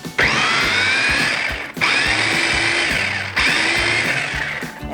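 Blender pureeing mango flesh and seed in three loud, close whirring bursts, each separated by a short stop, with no talking.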